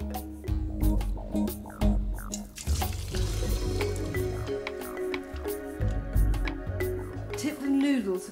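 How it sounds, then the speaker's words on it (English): Cooked noodles are drained and rinsed under ice cold running tap water, with splashing, squishing and dripping sounds in uneven bursts close to the microphone. "they need to be drenched with ice cold water just to stop them cooking"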